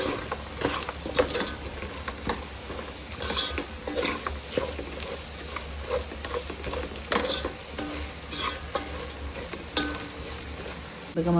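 Garam masala is fried in oil in a pan for Agri-style mutton, a quiet sizzle under scraping and clinking as a spoon stirs against the metal throughout.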